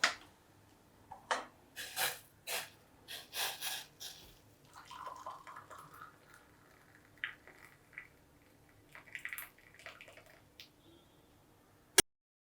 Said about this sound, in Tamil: இப்போ இந்த காஃபி ரெடி ஆகிடுச்சு, நம்ம ஃபில்டர் பண்ணிக்கலாம்.